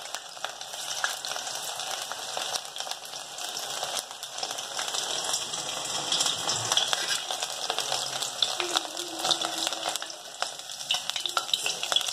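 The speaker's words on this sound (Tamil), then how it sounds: "ஒவ்வொரு கார்னாக போட்டு போட்டு எடுத்துகிட்டு பொறிச்சு எடுத்துட்டா போதும்" Battered baby corn pieces fry in hot oil, a dense continuous sizzle and crackle close by with occasional stirring, steady for the whole stretch without speech.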